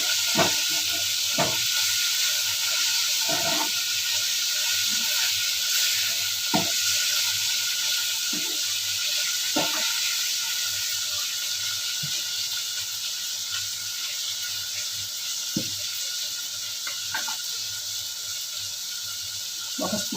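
Brinjal pieces for vangi bath frying in a pan, with a continuous loud hiss of sizzling oil and a dozen or so sharp, irregular scrapes as the eggplant is stirred, with no voices.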